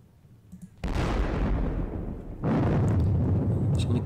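Artillery fire in the Napoleonic Battles Leipzig video game: two heavy booming blasts about one and a half seconds apart, each followed by a long rumbling roar.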